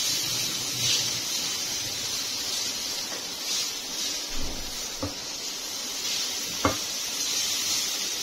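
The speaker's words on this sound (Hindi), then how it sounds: "तो यहाँ पे मैं थोड़ी सी सब्ज मिर्चें ऐड करूंगी साथ ही इसके। तो इसको हम थोड़ा सा मिक्स करेंगे" Green chillies sautéing in a pan for chicken momos give a steady, close hiss with a few soft stirring taps and scrapes, no voices.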